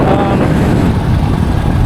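Strong wind buffets the microphone in a loud, low, continuous rumble while riding a Yamaha YTX 125 motorcycle in Masbate, with a faint engine-like drone beneath it.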